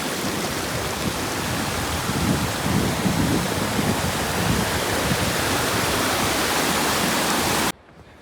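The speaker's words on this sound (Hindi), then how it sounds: "साफ सुथरे पानी की बहती हुई धाराएं।" Clean water rushes along streams in a Himalayan mountain valley in the Pangi Valley, a steady, dense hiss close by that runs unbroken for several seconds, then cuts off abruptly near the end.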